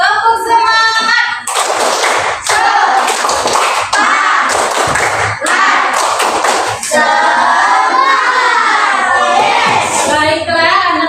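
Fifth-grade schoolchildren in a classroom perform a rhythmic spirit clap, with loud, close bursts of patterned hand claps and taps in a repeating beat, mixed with children's chanting voices throughout.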